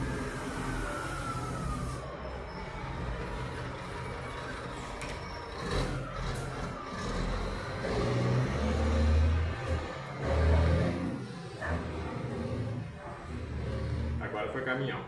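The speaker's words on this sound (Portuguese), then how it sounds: "Agora foi caminhão, mas aquela hora no início ali foi carroça" A truck drives along the street outside, its engine rumbling and swelling as it passes at moderate distance, with low revving bursts under quiet room background.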